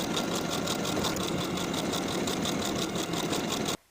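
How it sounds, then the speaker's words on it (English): Sewing machine stitching buttonholes on a shirtdress, a rapid steady mechanical whir with fast regular needle ticks, close and continuous until it stops abruptly near the end. "Then sew each of your buttonholes in place"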